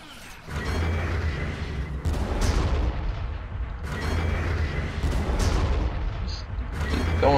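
Artillery fire in the strategy game Armageddon, a continuous, loud rumbling barrage of deep booms and blasts rolling on without pause.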